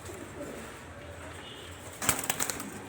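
Pigeons for sale cooing softly amid a faint background, then a sudden brief burst of wing flapping near the end, close and louder than the cooing.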